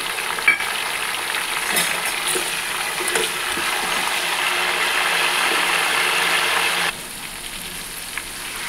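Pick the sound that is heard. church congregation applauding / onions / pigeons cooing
onions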